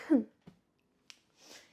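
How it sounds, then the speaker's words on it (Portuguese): A single faint, soft sneeze from someone talking about her running shirt, heard close up after a brief breathy vocal sound in an otherwise quiet room. "Ai, eu vou espirrar."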